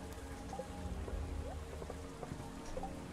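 Rain in the farming video game Stardew Valley patters as a soft, steady shower, with scattered small droplet ticks and faint chimes from the game over it.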